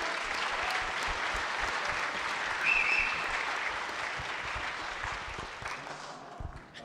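Sustained audience applause at a church gathering, fairly loud and even, with a brief shrill whistle or cheer partway through, then thinning and tapering off toward the end.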